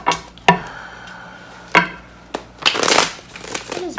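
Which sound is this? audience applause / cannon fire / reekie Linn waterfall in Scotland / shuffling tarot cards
shuffling tarot cards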